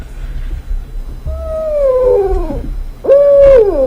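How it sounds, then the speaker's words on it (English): An owl hooting sound effect plays, two drawn-out, wavering hoots, loud and close, the second starting sharply after a short pause. "It's Oliver, your friendly owl, with your wise word for today"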